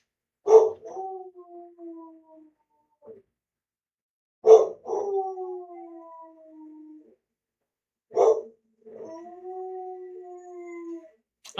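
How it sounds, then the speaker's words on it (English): A dog howls three times in long, drawn-out wails, each starting with a sharp bark-like onset, separated by short pauses; no sirens stand out. "my dog is howling at sirens"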